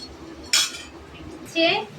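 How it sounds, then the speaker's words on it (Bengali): A small mortar and pestle grinds spices for chicken biryani, with two distinct bright, clinking strikes about a second apart against a quiet background. "এটা আমার ছোট কিউট সামাল দিস্তিতে গুঁড়ো করবো"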